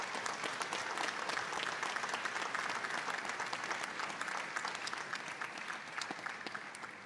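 Sustained applause from a graduation audience at a spring 2024 community and technical college ceremony, a dense steady wash of many hands clapping that carries evenly through the whole stretch and tapers slightly at the end.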